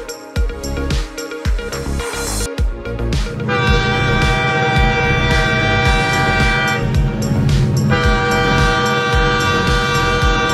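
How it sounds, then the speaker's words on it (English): A train rolls past with a rhythmic clatter of wheels over rail joints, while a sustained horn sounds loudly twice over the rumble. "Train."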